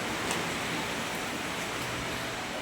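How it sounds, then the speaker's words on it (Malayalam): Heavy rain pouring down in a steady, dense hiss, loud and unbroken, with no voices. "സൂപ്പർ മഴ."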